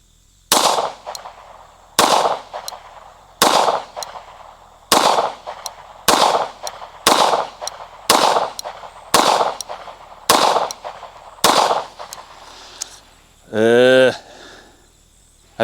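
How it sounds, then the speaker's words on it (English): A Fusion Firearms XP-Pro 2011 pistol fires ten sharp, loud shots at an outdoor range, spaced roughly evenly about a second apart, followed by a brief buzzing electronic tone. "Let's shoot 10 rounds."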